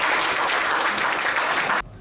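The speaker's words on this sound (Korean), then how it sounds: "이렇게 뜨거운 박수로 맞아주시고" Warm audience applause at a book launch event, dense clapping from a crowd that carries on steadily for about two seconds before cutting off abruptly.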